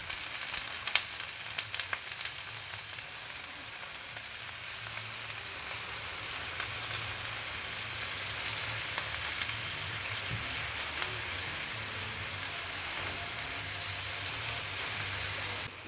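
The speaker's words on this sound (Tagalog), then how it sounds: "Gigisa natin yung ating sibuyas." Chopped onion sautéing in a hot pan for ginataang sigarilyas with chicken liver, giving a steady close sizzle and crackle throughout with a few light stirring scrapes.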